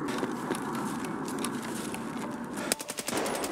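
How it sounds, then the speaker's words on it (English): Gunfire in the video game Escape From Tarkov rattles in quick bursts, muffled and moderately distant, followed near the end by a few sharper, closer shots. "Somebody shooting at me."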